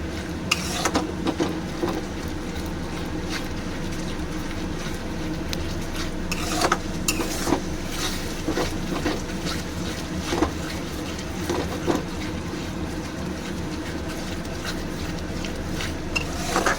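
Yogurt and spice masala being stirred continuously in a pan for mutton keema biryani, a steady sizzle with scraping and clinking of the spoon against the pan, close and fairly loud, no talking.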